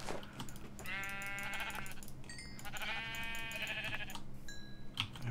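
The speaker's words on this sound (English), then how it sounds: "Look at all these sheep stuck in here." Minecraft sheep bleat in two drawn-out, wavering calls, close and clear, over a steady low in-game background hum with a few faint clicks.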